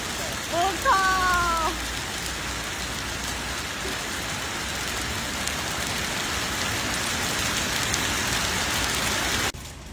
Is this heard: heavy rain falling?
yes